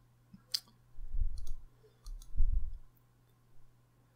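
Computer mouse buttons clicking, a single sharp click near the start followed by softer muffled thumps and a faint later tap, over a low steady hum in a quiet room.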